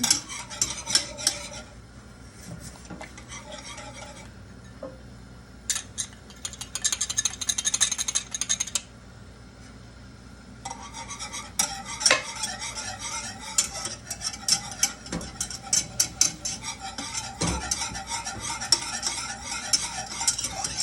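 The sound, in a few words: stirring thickening sauce in a pan on the heat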